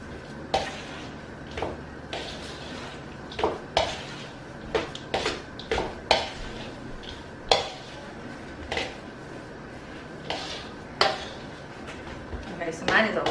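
Cheese being stirred into a pot on the stove, a series of close clinks and scrapes of a spoon against the pot at an uneven pace, over a soft sizzle and a faint hum, with talking between strokes.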